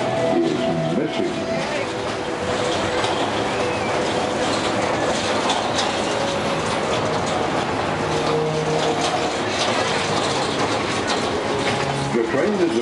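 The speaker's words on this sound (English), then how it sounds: "The train is about to pass the old abandoned well." Heritage train on the Heber Valley Railroad rolling steadily through a canyon, with continuous rumble and clickety-clack of wheels, birds and a voice heard over the running train throughout.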